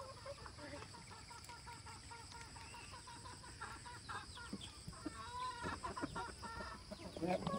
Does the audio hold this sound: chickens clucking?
yes